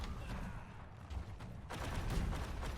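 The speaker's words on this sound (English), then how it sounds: "being hit by some of the cannons" Cannon fire strikes troops on a battlefield in Conqueror's Blade, heard as a dense, continuous rumble of booms and impacts that swells louder partway through, with no voices.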